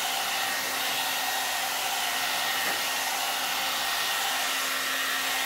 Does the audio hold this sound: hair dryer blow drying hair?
yes